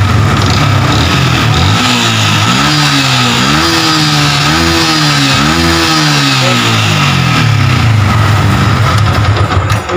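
A Yamaha Vixion motorcycle engine with a sputtering fault and a fast-blinking warning light runs loud and close, a steady mechanical drone whose pitch rises and dips mid-way before settling, with no voices.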